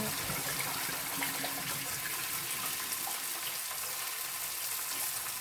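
Cooked collard greens are drained, with water pouring and splashing steadily into a sink in a close, continuous rush.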